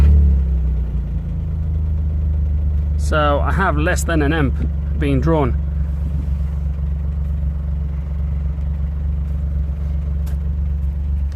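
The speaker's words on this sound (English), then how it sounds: "I'm going to start the car." A Smart Fortwo 451 engine runs at a steady low idle throughout, with someone talking briefly over the hum early on before the engine continues alone.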